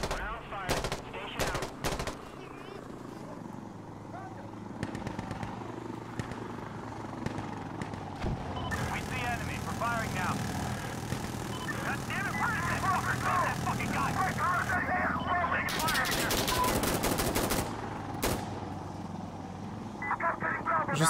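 Gunfire in the realistic military shooter Insurgency: Sandstorm: bursts of machine-gun fire and single shots crack over a helicopter's rotor drone, with a player talking over much of the action.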